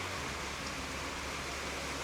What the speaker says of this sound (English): It's pissing rain here as per usual.